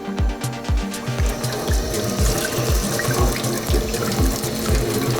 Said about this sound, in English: just rinsing it off, so making sure don't get any contaminations